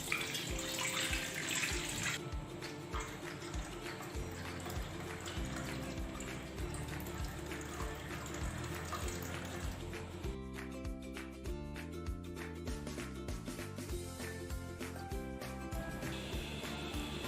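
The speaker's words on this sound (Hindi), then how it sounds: "अब हम गुड़ को अच्छे से छान लेंगे।" Jaggery dissolved in water being strained in a home kitchen, a faint continuous trickle and splash of pouring liquid, followed by clinking and scraping of utensils, with no speech.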